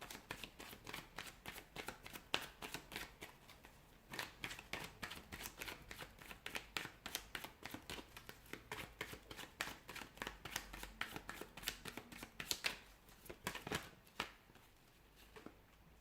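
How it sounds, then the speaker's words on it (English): A deck of cards is shuffled repeatedly up close, a rapid riffling patter of crisp papery flicks in long bursts with short pauses, quiet overall. "give the cards a shuffle and begin"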